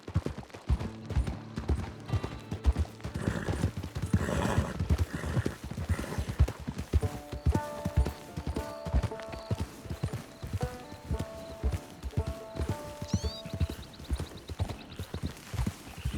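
Horse hooves clip-clop steadily in Red Dead Redemption 2, a rhythmic run of moderate-level hoofbeats over game music and mechanical sounds, with a brief whinny possible.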